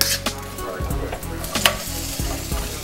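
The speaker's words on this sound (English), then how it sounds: "you're going to put a little bit of chicken broth in with the vegetables and let those cook up till they're nice and tender" Parsnips, carrots and celery simmer and sizzle in chicken broth in a hot pan, a steady close bubbling hiss broken by a few sharp clicks of stirring, with no talking.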